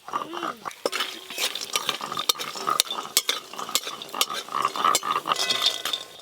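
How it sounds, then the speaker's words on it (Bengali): Lentil dumplings (bori) fry in mustard oil in a pan, with frequent sharp clinks and scrapes of a metal spatula over a low bubbling sizzle, close and busy. "এবার এই বড়িগুলো ভেজে নেবো লাল লাল করে।"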